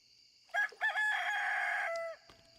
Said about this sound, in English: I know, Mr. Rooster.